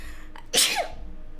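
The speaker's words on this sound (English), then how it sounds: "I don't like that I'm sneezing." A single sharp sneeze from a character in the Disco Elysium game, short and close, rising from a quick breath into a bright burst that dies off within a second.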